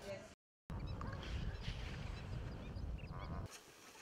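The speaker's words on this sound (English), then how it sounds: "Lesser flamingos have been coming to Lake Natron in northern Tanzania for centuries." Dense chorus of lesser flamingos calling at Lake Natron in northern Tanzania, a continuous honking, goose-like din from a large flock, loud and steady after a brief silent gap, fading slightly near the end.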